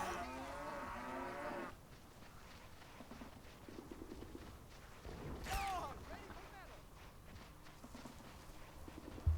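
Cattle moo repeatedly in the video game Men of War Assault Squad 2, with low, drawn-out calls near and far, over hoof clip-clops and faint battlefield background noise.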